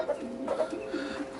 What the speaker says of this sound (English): So these are Serama roosters.